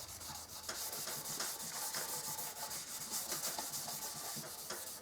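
An abrasive pad rubs across the French-polished finish of a handmade archtop guitar's back, a steady dry scrubbing hiss with rhythmic back-and-forth strokes, close and continuous, with no talking.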